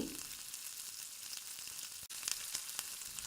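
Mustard seeds and cumin fry in a tablespoon of hot oil for a masala dosa curry, giving a soft, continuous sizzle with faint crackling pops and no talk.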